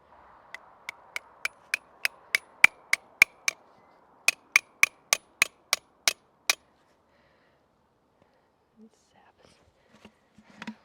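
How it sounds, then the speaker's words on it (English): A run of sharp, evenly spaced knocks as a metal spout is hammered into a backyard maple tree for sap tapping, about seventeen strikes in two quick bursts, close and crisp, followed by faint rustling. "let's tap this spout into the tree"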